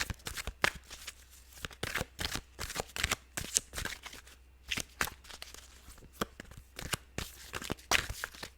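Tarot cards being shuffled in a deck, a rapid run of crisp riffling flutters and slaps that repeat in quick bursts throughout, close and fairly quiet, with no talking.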